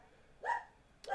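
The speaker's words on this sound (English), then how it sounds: "Sorry if you hear my dog barking because I can't control that." Two quick barks from a pet dog, faint and somewhat distant, separated by about half a second over quiet room background.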